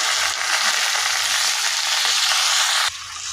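Onion pieces and curry leaves fry in hot oil with a loud, dense, continuous sizzle close by, easing slightly near the end, and no one speaking.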